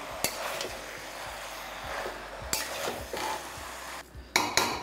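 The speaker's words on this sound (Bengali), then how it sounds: "তারপর আর একবার ভালো করে মিশিয়ে নিচ্ছি।" Fish-head chhyachra being stirred in a pan, with a soft steady sizzle underneath and scattered sharp clinks and scrapes of a utensil against the metal, several louder knocks near the end.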